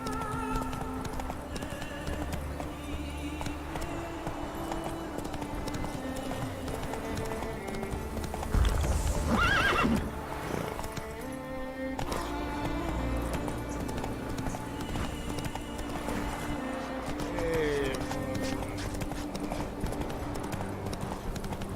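Geralt's horse Roach from The Witcher 3 gallops in a steady clip-clop rhythm beneath game music, with a brief whinny midway and hoofbeats continuing throughout.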